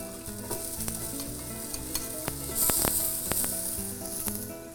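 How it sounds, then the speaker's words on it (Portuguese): Garlic browns lightly in a pan, a close crackling sizzle broken by frequent spatula scrapes and clicks as it is stirred, swelling briefly louder midway, with no voices. "O alho, nós vamos dourar ele levemente, né?"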